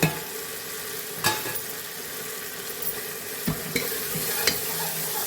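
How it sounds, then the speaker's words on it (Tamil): Coriander powder, cumin powder and garam masala sautéing in hot oil for aloo mutton curry, a steady close sizzle with occasional stirring scrapes and taps against the pan. "இதுவும் நல்லா பச்சை வாசனை போகிற அளவுக்கு வதக்கி விட்டுக்கலாம்."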